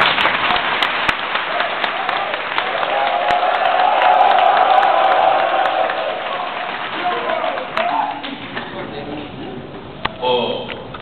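A crowd applauds at a political meeting held in a town hall, a sustained wash of clapping that swells and then fades, with a voice speaking over it near the end.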